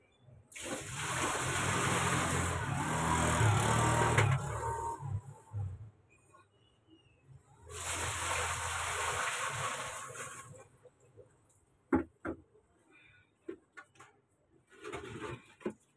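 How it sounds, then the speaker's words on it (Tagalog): Water poured by hand from a bucket into a container in Tondo, Manila, comes in two long rushing, splashing pours, each lasting a few seconds, followed by short knocks and clatters of the bucket. "Lalagyan natin ng tubig ito. Mano-mano lang, may timba ako."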